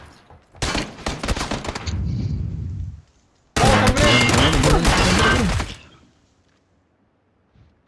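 Two loud bursts of automatic gunfire from the battle royale game PUBG, each lasting a couple of seconds and separated by a brief gap, then a fade into near silence.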